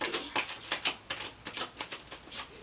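Cards being shuffled in quick riffling bursts, a rapid series of crisp flicks repeating for a few seconds, close by with no voices.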